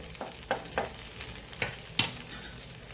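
Potato chilla cooking in a pan over a low gas flame, a soft, quiet sizzle broken by several scraping strokes of a spatula.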